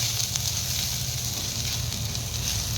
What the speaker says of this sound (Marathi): सगळ्या बाजूने आपण मसाला व्यवस्थित परतवून घ्यायचा आहे